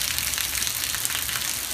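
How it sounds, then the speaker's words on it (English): Rain falls steadily outdoors, a dense continuous hiss of drops on surfaces with no voices. "Are you enjoying the rain?"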